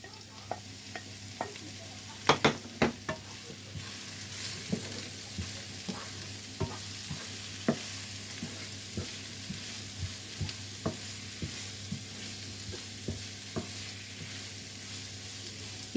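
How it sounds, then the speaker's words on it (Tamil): Tomatoes sautéing in a pan with softened leeks for a prawn and semolina dinner, a steady sizzle with repeated sharp spatula stirs and scrapes, close and unaccompanied by voices. "நான் இப்போ தக்காளி சேர்க்கிறேன்."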